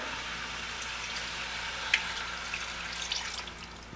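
Water pours into a pan of pork curry, a soft continuous rush with a few small splashes and drips near the middle and end.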